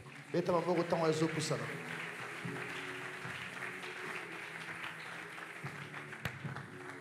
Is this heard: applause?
yes